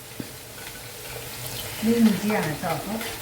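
Ginger, garlic, green chilies and curry leaves sauté in oil for a pickle, making a soft, close sizzle and some stirring beneath a voice talking.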